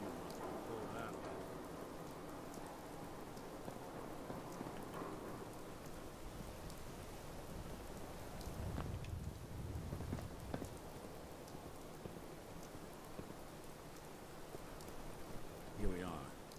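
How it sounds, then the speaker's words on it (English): Steady night rain falls in Fallout 4, a dense continuous hiss with a low rumble swelling midway, like distant thunder, and no talk. "It's raining at nighttime."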